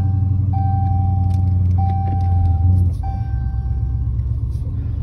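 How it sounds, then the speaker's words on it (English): A Chrysler 300 SRT 6.4 Scat Pack with an 8-speed transmission pulls out. Its deep, steady engine rumble fills the clip, with a repeated dashboard chime ringing over it. The rumble shifts and eases slightly partway through. "I'm just pulling this car out."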